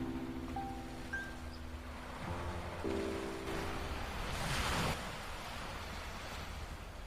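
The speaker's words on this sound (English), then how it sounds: "The sound of the sea is everywhere around us." Sea waves at night by a beach, heard as a steady, moderate wash of surf with a swell of louder noise near the middle and a few faint tones in the background.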